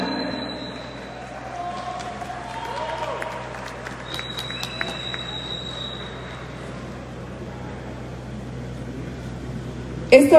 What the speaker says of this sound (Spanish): Vamos a brindar un fuerte aplauso a la orquesta Emeta.